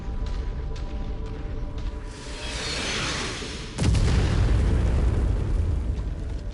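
Artillery explodes in the mech combat game Mechwarrior 5 Mercenaries: a single loud, deep boom lands midway and rumbles on over ongoing battle noise.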